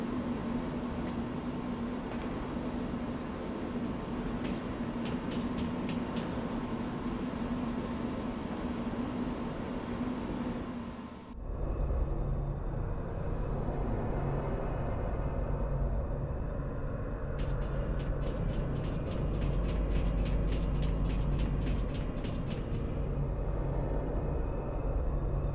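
A train rumbles in the Lost Odyssey video game, a steady low, heavy drone that drops sharply partway through and then resumes with clattering rail noise. No one speaks.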